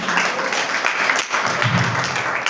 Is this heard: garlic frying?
no